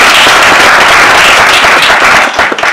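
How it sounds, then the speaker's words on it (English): Loud, close, dense clapping from an audience at a school theater event, steady throughout and easing slightly at the end. "So we give them a round of applause"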